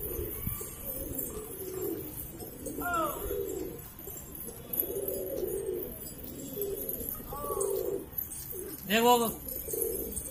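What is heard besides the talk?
pigeons cooing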